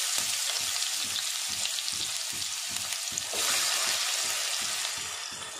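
Chopped onion frying in a pan for kuruma, a loud steady sizzle right up close with a rhythmic scraping stir running underneath, the hiss swelling slightly partway through.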